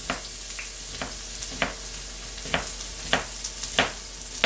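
Sliced onions fry in a hot pan with a steady sizzle, punctuated by a handful of stirring scrapes at irregular intervals, close and clear.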